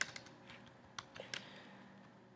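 Quiet typing on a computer keyboard, a handful of soft, irregular key clicks close by with brief gaps, no talking.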